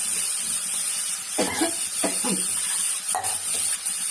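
Soft sizzling of tomatoes sautéing in a pan for rasam, with a few stirring scrapes and clinks, steady background hiss, no talking.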